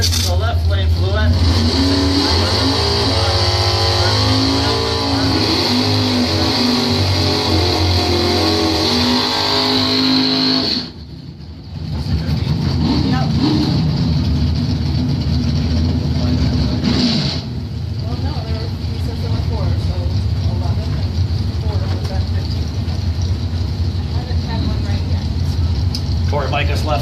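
Drag racing cars roar loudly and continuously at a points event, a 1968 Camaro and a Dodge Dart among the entrants, with a brief dip midway before the engine noise resumes under a commentator's talk.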